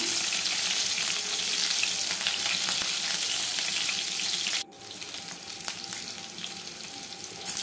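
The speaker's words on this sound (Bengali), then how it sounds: "তো এবার আমি দিয়ে দেবো রসুন আর কাঁচা লঙ্কাগুলো" Garlic and green chillies fry in hot mustard oil with a loud, steady sizzle that drops suddenly partway through, then continues more quietly with small crackles and stirring.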